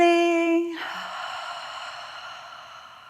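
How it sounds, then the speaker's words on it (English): A slow, deep exhale during yoga breathing, a soft airy whoosh that starts strong and gradually fades over a few seconds, heard close and alone. "Exhaling."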